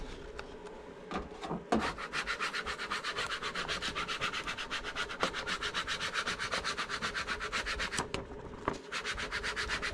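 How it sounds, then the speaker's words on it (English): Big cooling fan inside a vinyl cutting plotter running steadily, a continuous airy whir with a fast rhythmic scraping pulse, close by and moderately loud, no talking. "Fan noise you hear behind me is the actual plotter."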